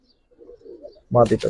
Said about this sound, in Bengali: কবুতর একজোড়া আনছি দেখাইতেছি